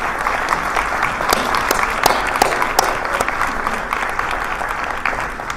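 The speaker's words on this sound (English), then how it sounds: "Just stand up and give yourself an applause for being here today." An audience at a City of Chicago Small Business Center gathering applauds, with loud, dense clapping holding steady for several seconds, some sharper individual claps standing out from the mass.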